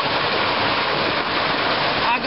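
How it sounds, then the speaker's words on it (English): Dense, steady bubbling and churning water of a hot tub, loud and close, a continuous wash of noise without pauses. "We're in a hot tub."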